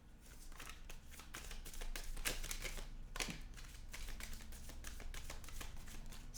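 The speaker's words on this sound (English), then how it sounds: "Fifth shuffle." Tarot cards being shuffled by hand, a dense run of quick papery riffles and slaps that stays steady and fairly close throughout, with no talking.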